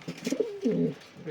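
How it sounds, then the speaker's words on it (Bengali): Domestic pigeons coo close by, with two low, throaty rolling coos, the second longer and swelling, and a third beginning at the end. "ভালো মানের কবুতর"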